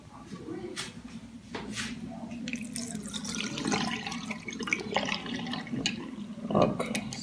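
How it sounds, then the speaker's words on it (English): Warm water is poured out into a sink, a continuous splashing trickle at moderate loudness with brief drips, partly under a person's voice. "I'm just going to be pouring out this in the sink"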